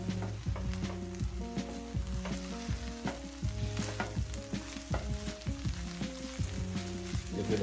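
Shrimp curry fried rice sizzles steadily in a hot pan while it is stirred, with repeated close scraping strokes over a constant frying hiss and no voices.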